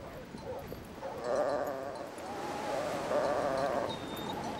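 Sheep bleating on a Patagonian ranch in spring, several wavering calls from a flock at moderate distance over steady outdoor background noise, with no talk.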